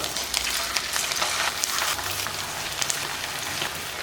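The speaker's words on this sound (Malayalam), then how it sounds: "എണ്ണ നന്നായിട്ട് ചൂടായിട്ടുണ്ട്, അതിലിട്ട് ഫ്രൈ ചെയ്യും." Chicken pieces for restaurant-style chilli chicken frying in hot oil, a loud, dense, continuous sizzle and crackle with sharp popping bursts throughout, heard alone and close.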